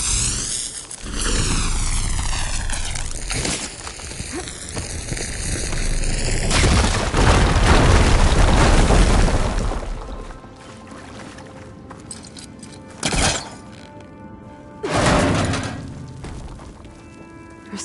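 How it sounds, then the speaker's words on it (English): A fire gleam blockage blows up in Horizon Forbidden West: a rising whoosh, then a long loud roaring blast with rumbling debris, fading into quieter ambience and two later short bursts. "Should be able to blow up that fire gleam."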